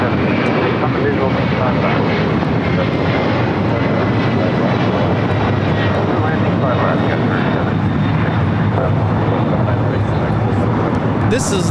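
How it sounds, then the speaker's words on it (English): LATAM Airlines Boeing 767-300ER on its takeoff roll from runway 25R at LAX, bound for Lima. A loud, continuous jet engine roar fills the whole stretch, with voices talking underneath. "Latam at 767 now taking off on 25 right."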